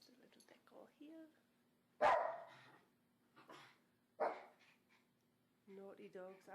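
Dogs in a home bark in a few sharp bursts at moderate distance, separated by pauses, with someone talking quietly in between and over them.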